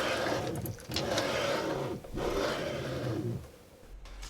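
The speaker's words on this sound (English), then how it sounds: "it sounded and felt significantly better to move the Y-axis" A Monoprice Select Mini 2 3D printer being restored moves its Y-axis bed back and forth, producing a close whirring hum broken by short pauses, with faint sliding and mechanical rattles.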